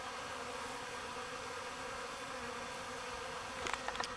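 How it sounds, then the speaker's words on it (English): Honey bees humming steadily in a box packed full of bees, a dense, even drone throughout with a few sharper buzzes of individual bees close by near the end. "That box is packed full of bees."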